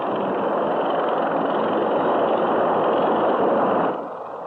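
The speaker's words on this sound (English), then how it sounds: "This helicopter got called in to lift the horse to the heavens" A helicopter lifting a horse out of a canyon during a rescue gives a loud, steady rotor and engine roar that holds constant, then drops somewhat near the end.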